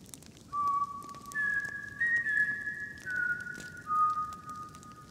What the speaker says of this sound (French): Toutes les nuits, de 3h03 à 3h05, il y a un sifflement.